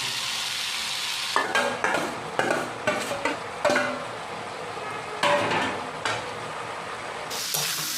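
Cluster beans and potatoes are stirred in a sizzling pan, with repeated scraping strokes of a spatula against the pan over a steady frying hiss, close and fairly loud.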